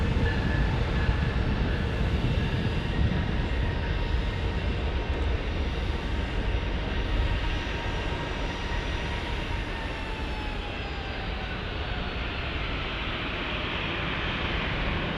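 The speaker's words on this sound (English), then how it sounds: "an Amtrak comes by" An Amtrak train rumbles past near a busy single-runway airport in San Diego, a steady, loud rolling roar with a faint high whine holding for the full stretch without any voices.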